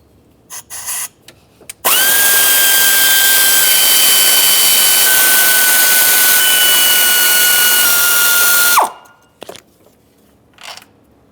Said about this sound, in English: Let's continue removing our mounting bolts that hold the intake to the engine.